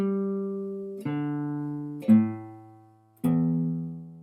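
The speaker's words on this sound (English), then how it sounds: "I'm just going to tune to concert pitch" Guitar being tuned to concert pitch during a practice session: three or four sustained plucked notes, each ringing and slowly decaying before the next is struck, close and alone without talk.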